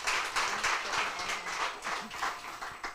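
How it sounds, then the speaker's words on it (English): An audience applauds at a chat event, a dense patter of many hands clapping steadily for a few seconds, moderately loud with no talk over it. "A round of applause, ladies and gentlemen."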